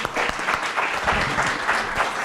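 A lecture audience at a university applauds for a student, a short burst of close, uneven clapping from a modest crowd.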